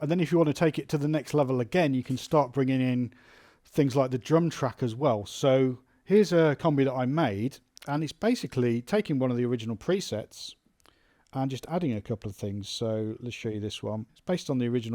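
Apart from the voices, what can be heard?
No everyday noise stands out behind the speech.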